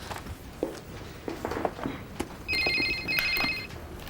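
A telephone rings indoors in a TV drama scene. Two bright bursts of ringing sound in the second half, moderately loud over a quiet room with scattered faint noises.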